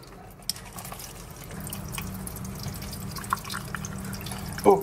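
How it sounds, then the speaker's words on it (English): Purified water running from a water dispenser, a soft continuous trickle and drip in a quiet room, faint and steady with a small clunk at the end. "But first of all, some purified water."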